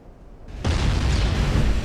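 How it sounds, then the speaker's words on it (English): An armor-piercing shell salvo striking a warship in the naval game Ultimate Admiral: Dreadnoughts, a sudden heavy explosion after a quiet rumble, followed by a loud, sustained rolling roar. "These are the AP hits, the AP salvo that I sent out before I clicked HE."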